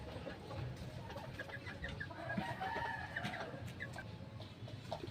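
Chickens cluck and call in a farmyard, with several birds overlapping in scattered bursts over a busy, steady background.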